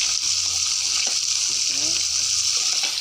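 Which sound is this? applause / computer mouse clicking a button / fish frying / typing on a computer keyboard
fish frying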